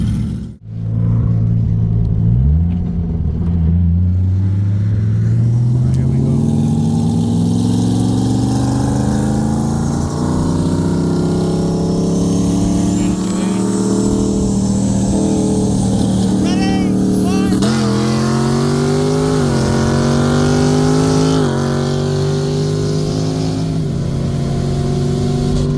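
A 1995 single-turbo E85 Toyota Supra and a 2022 LT1 E85 Camaro accelerating hard in a 60 mph roll race, engine pitch climbing steadily through several gear shifts, loud and sustained with wind noise and occasional voices.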